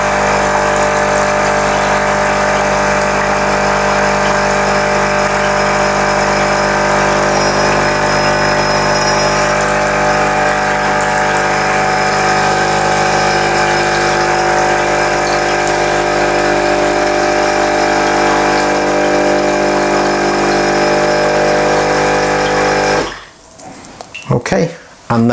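A Sage Barista Express espresso machine pumps descale fluid through its system with a loud, steady mechanical drone and watery hum that lasts more than twenty seconds before cutting off abruptly, followed by a few faint knocks.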